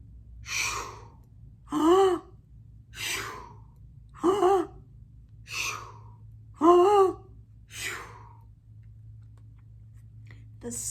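A storyteller's voice imitates dinosaurs snoring at bedtime, a steady series of about seven rasping, throaty snores in an even rhythm, close and fairly loud.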